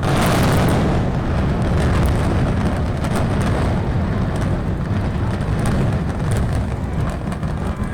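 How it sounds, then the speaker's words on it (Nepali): Two 40-storey buildings, one 97 metres tall, collapse in a controlled demolition using 3700 kg of explosives, heard as a loud, continuous rumbling roar that fills the entire span without talk. "यी दुवै भवनलाई 3700 किलोग्राम विस्फोटक पदार्थ पड्काएर 9 सेकेन्डकै अवधिमा ध्वस्त बनाइयो।"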